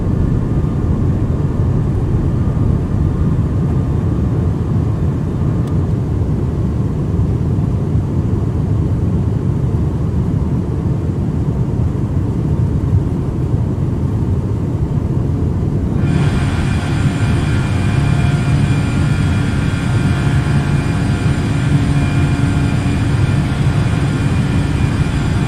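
A Fenix A320 airliner in Microsoft Flight Simulator climbs after takeoff, a loud continuous engine roar and broadband rush that holds steady throughout, brightening somewhat past the midpoint.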